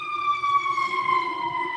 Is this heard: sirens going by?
yes